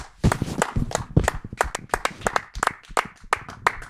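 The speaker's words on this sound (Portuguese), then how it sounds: "Palmas para o Pep" A few people clap near a football stadium at a Portugal–Turkey Euro match, sharp, distinct handclaps in an uneven rhythm, close and crisp with quieter gaps between bursts.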